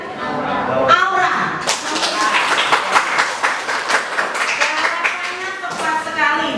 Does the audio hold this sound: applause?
yes